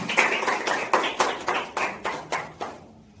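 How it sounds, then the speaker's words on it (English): A small audience claps for a contestant at a school competition, a few sharp clap bursts in a steady rhythm of roughly three per second, close and moderately loud, fading out at the end. "Please clap for Vidya."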